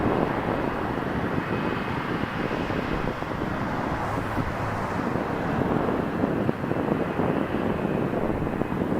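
An Airbus A330 airliner in Shamrock livery at Toronto Pearson airport, a steady broad roar of jet noise with wind buffeting the microphone, continuous and fairly loud throughout.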